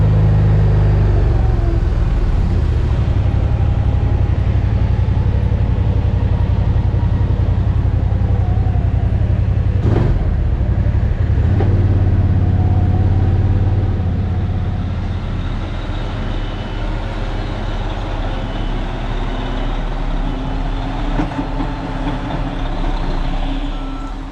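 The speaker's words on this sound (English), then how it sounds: "Well, here comes the truck up the driveway." Concrete truck driving up a residential driveway, a loud, steady diesel engine rumble drawing close, with a sharp knock near the middle and the engine easing off toward the end.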